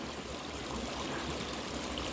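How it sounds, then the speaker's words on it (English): Creek water flows over rocks in a steady, close, continuous rush and babble, with no voices. "Let's use the creek to rinse."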